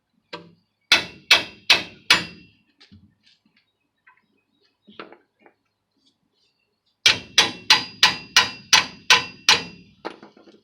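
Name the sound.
hammer striking ball joint to pop it loose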